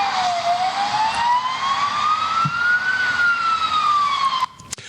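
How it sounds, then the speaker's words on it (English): A police motorcycle siren wails from close by, one long smooth tone sliding slowly down, up and down again, over a low engine rumble, then cuts off with a couple of sharp clicks. "a gendarme on a motorcycle comes up behind them, toots his siren"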